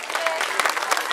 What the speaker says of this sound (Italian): Facciamogli un applauso a questi genitori.